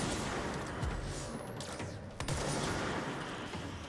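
Rapid bursts of gunfire ring out in the video game Control, a dense crackle of shots over a loud, noisy game soundscape, with a sharp impact near the middle.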